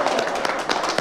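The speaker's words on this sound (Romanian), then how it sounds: "să-l aplaudăm!" Neighbours clap together at an apartment-block meeting after the block president election result is announced; a brief, dense burst of steady applause with a few sharper individual claps.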